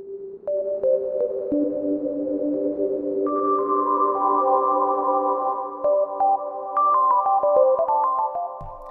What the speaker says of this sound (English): There's a very nice reverb here. Let's hear this with a sine wave.